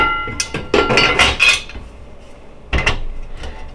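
A thick, heavy Gourmia FoodStation grilling tray with a coated surface is handled, giving a cluster of loud clanks and metallic clinks up close, a pause, then a few more knocks near the end.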